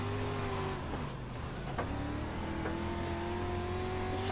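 A race car in iRacing holds a loud, steady engine drone with pitch shifting as it shifts gears and accelerates, accompanied by faint tire noise and no talk.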